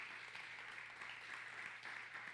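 A church congregation applauds, a steady, even wash of clapping that stays soft and distant throughout.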